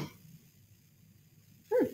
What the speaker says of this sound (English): I'm going to sneeze. I apologize.